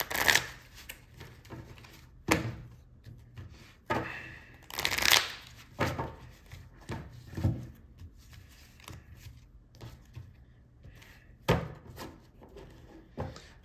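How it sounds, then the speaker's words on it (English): A Magic: The Gathering card deck being shuffled up close in several quick riffling bursts with pauses between, plus some soft handling and tapping noises. "a couple more quick shuffles"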